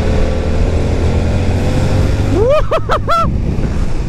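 A Yamaha R7 motorcycle engine drones steadily in third gear near 4000 rpm, then revs rise and fall in several quick bursts near the end, the pitch sweeping up and dropping with each twist of throttle.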